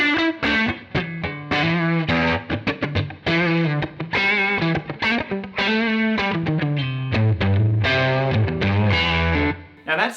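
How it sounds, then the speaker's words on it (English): Fender Stratocaster electric guitar played through a Wampler Ethereal plate reverb pedal, with sustained chords and melodic notes ringing out under a heavy, washy reverb tail and slight grit, loud and continuous with no talking. "Ethereal from Wampler uses a plate reverb, which I've always really liked as well."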